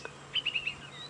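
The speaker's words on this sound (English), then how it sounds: "So nice to see this little bird." A little bird chirps four or five quick, high notes in a short, evenly spaced run, faint and a little distant against the soft outdoor background of a sunset safari drive.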